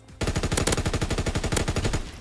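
MG15 machine gun from Call of Duty: WWII fires one long, loud, rapid stream of evenly spaced shots that starts abruptly and runs for about two seconds, with no talk.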